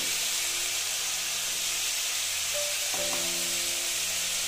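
Ground cumin and chili powder hit hot oil in a pan while cooking a vegetarian ridge gourd ghonto, giving a steady close-up sizzle and hiss, with a few faint clinks near the end.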